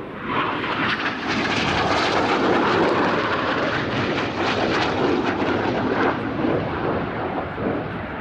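Red Arrows aerobatic jets of the RAF Aerobatic Team roar past at an air display at RIAT as they turn away at high G. A loud, sustained jet rumble swells and slowly fades across the pass.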